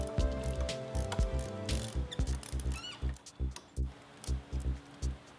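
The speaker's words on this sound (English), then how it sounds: "We're gonna pull our riser bolts off and just completely remove this whole setup." A ratchet wrench works on motorcycle handlebar riser bolts during a Murdock riser and Biltwell bar install. It makes fast, crisp ratcheting clicks at first, then slower, evenly spaced clacking strokes, close up with no speech.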